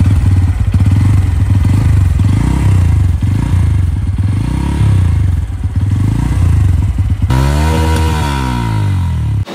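A 2024 Bajaj Pulsar N160 motorcycle engine drones loud and close with a deep, bassy pulsing tone, then its pitch sweeps as it passes near the end.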